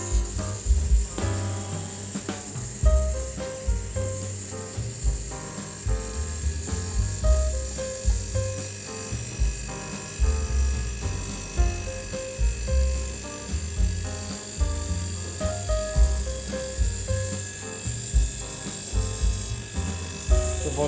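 An AC or fridge compressor runs steadily while pumping up pressure, a loud continuous mechanical buzz with a regular pulsing throb and faint rattles, no talk.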